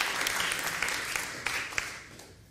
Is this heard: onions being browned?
no